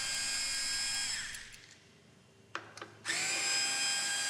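A power tool removing the screws of a CVT driver kit whines at high pitch, winds down and stops, then after a few faint clicks starts again loudly and runs steadily, close by with no talking.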